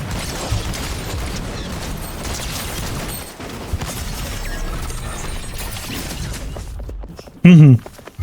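Chaotic Fortnite game action with clanking and bursts throughout, ending in a loud, sharp point-blank shotgun blast with a ringing tail near the end.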